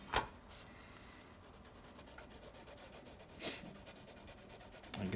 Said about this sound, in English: I'm just using the side of my pencil here to get a wider stroke.